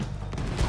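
Cannon fire in Red Dead Redemption 2, a dense booming fusillade with heavy low rumble that swells louder near the end, with no talk over it.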